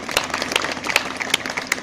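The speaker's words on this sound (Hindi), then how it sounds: "उनके लिए भी जोरदार तालियां होनी चाहिए।" An audience at a talk on tribal communities in Jharkhand breaks into applause, a loud, dense patter of many hands with stronger individual claps poking through for about two seconds.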